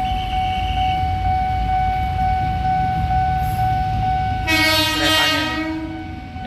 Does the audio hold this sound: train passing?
yes